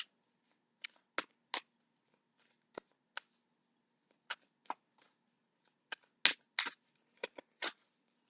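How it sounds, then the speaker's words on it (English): Tarot cards drawn one by one from a deck make crisp, close, sharp flicks and slides, separated by short silences, in a quiet room with no talking. "I'm going to pull out 3 cards here"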